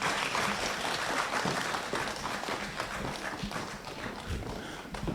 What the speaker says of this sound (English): Let's continue clapping until they sit down.